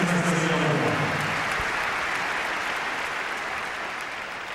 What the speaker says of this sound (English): a great cheer for this very popular Russian